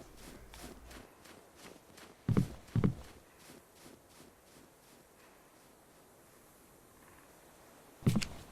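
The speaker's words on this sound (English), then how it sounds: "at this moment I heard footsteps below" Footsteps in the video game Survival Postapocalypse Now tap at a steady walking pace, faint and evenly spaced, broken by a few louder thumps.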